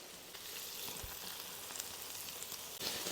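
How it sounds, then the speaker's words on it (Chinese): A beef burger patty fries steadily in a hot pan, giving a continuous close sizzle with a faint scrape near the end, with no voices over it. "煎至7分熟"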